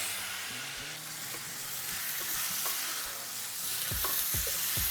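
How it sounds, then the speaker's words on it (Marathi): Steamed bottle gourd stirred into tomato masala in a pan, with a continuous soft sizzle and hiss of frying and scattered scrapes and clicks of the spoon moving the pieces. "आता मसाल्यामध्ये आपण एकदा भोपळा चांगला हलवून घेऊयात"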